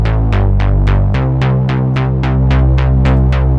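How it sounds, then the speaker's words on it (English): Punchy analog-style synth bass notes in a fast, steady pulse, each with a bright attack that quickly decays, loud and upfront. "you put them into a bass sounding something along the lines of like an analog synthy bass that sounds like this"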